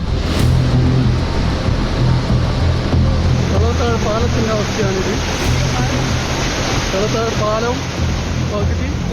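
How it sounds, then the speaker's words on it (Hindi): A flooded river in Palakkad, swollen by heavy rain, rushes over a submerged bridge: a loud, continuous roar of churning water fills the whole stretch, with brief voices faintly audible beneath it. "राज्य के पलक्कड़ में बरसात के बाद नदी ऐसी उफनाई कि पुल डूब गया।"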